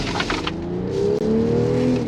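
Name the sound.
inline-6 car engine exhaust note revving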